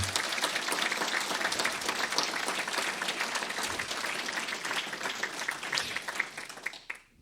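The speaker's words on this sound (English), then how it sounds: "And I'd like you to give her a round of applause." Sustained audience applause at a speech in Leduc, steady dense clapping from a large crowd for about seven seconds, fading out at the end.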